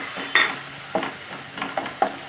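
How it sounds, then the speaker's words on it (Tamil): Garlic, onion and tomato sautéing in a pan for a Chettinad garlic tamarind curry, with a steady frying sizzle and a few sharp scrapes of a stirring spoon against the pan, close and continuous. "சேர்த்துட்டு மறுபடியும் நல்லா வதக்கி விட்டுக்கலாம்"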